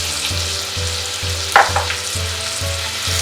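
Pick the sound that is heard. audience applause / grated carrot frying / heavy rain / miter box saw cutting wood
grated carrot frying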